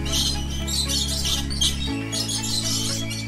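Birds call in short, bright chirping bursts over a steady low tonal hum, with no one speaking.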